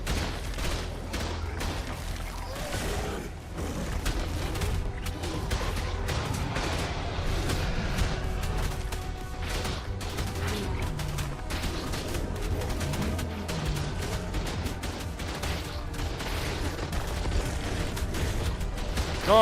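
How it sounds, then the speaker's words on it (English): Automated turrets in the survival game Ark Lost Colony fire in dense, sustained bursts of rapid gunfire, loud and continuous over layered battle noise, with no clear pauses. "Our turrets are doing work"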